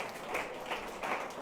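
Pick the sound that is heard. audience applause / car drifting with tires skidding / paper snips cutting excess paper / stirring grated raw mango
audience applause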